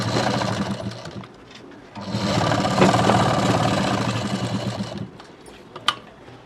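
A sewing machine runs steadily while stitching a prince cut blouse on a long basting stitch at setting 5. It whirs loudly and continuously, stops briefly, runs again for a long stretch, then a short sharp click sounds near the end.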